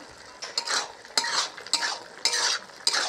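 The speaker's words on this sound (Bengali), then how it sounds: "তরকারিটা রান্না হচ্ছে।" Soybean and potato curry cooking in a pan, stirred with a utensil in repeated bursts of scraping and clinking against the metal, close and fairly loud with no talking.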